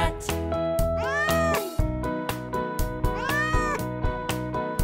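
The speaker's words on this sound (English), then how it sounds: "I hear a cat." A cat meows repeatedly in clear, close, drawn-out calls, with a rising-and-falling pitch sweep, set against a steady rhythmic musical backing.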